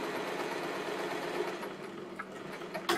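A sewing machine stitches a shirt collar, running steadily close by with a continuous mechanical whirr and a few sharper clicks toward the end, no voices present.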